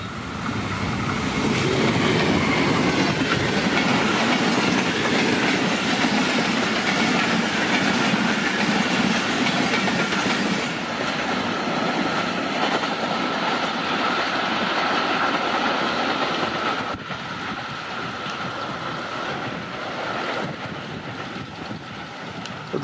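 A train passes through Chak Pirana railway station at speed, with a loud, sustained roar of wheels and a steady clickety-clack of coaches over rail joints that eases slightly toward the end.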